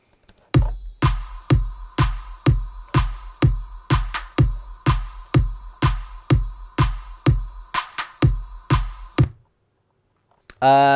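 Layered percussion and stacked claps from a dance-track drop, hit in a steady loud beat of about twenty punchy strikes with a sustained tonal layer under them, then a brief pause before the music returns.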